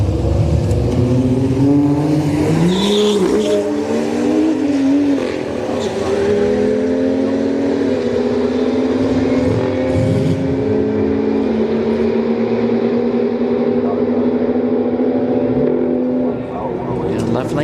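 A BMW drag racing at Orlando Speed World at street night, with loud engine drones rising and holding in pitch as cars accelerate down the strip, under continuous crowd and commentary talk.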